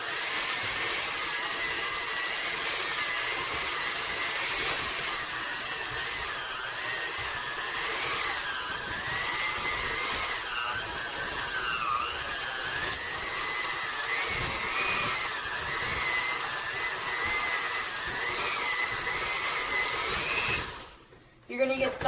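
Electric hand mixer beaters working through apple bread dough after the last of the flour goes in, a steady whirring drone that continues for about twenty seconds before cutting off with a brief clatter at the end.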